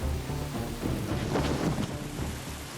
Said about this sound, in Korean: 그런데 빗방울이 떨어집니다.